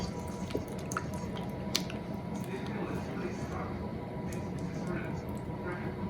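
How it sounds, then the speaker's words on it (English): Wet sourdough bread dough is folded over by hand, giving soft, sticky squishing and small slapping sounds with faint drips, quiet and close against low background noise. "That's a good healthy dough. So, fold that over."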